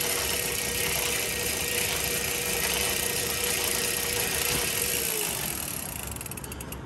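An electric bike motor runs on pedal assist level one, a steady close mechanical whir with a faint ratcheting hum that holds level and eases off near the end, with no talking.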